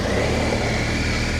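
A BMW R1250GS Rallye motorcycle engine runs steadily on the road, a loud, continuous hum mixed with wind rush and no change in pitch.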